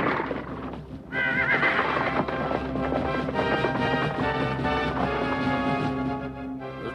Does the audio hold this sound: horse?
yes